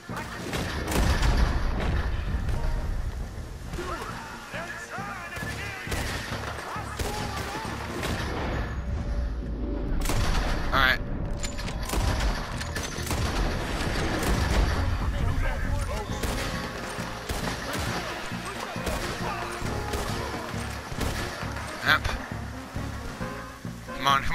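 Rapid gunfire in Red Dead Redemption 2 bursts in dense overlapping volleys throughout, loud and continuous, with people shouting and talking over the shooting.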